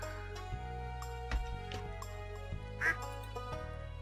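Duck quacking in Stardew Valley, a few short, soft quacks scattered over steady farm-game background music.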